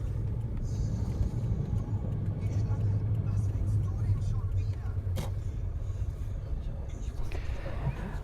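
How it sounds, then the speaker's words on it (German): Car driving over an asphalt road in Namibia, a steady low engine and tyre rumble heard from inside, continuous and even, with a voice talking faintly in the background. "Und wir fahren zur Abwechslung mal über Asphalt."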